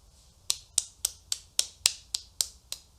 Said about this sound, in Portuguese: Palmas, palminhas.